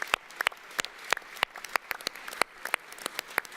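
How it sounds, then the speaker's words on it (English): Sparse clapping from a conference audience at a startup competition in Berlin, with individual claps spaced out and uneven, a few people applauding fairly quietly with no speech. "one more round of Okay. applause for Legacy"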